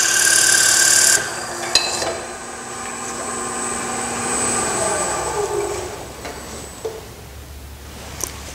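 A wood lathe drones steadily with a high whine while drilling into wood, a sharp click near the start and a falling tone as the cutting load eases, no talk.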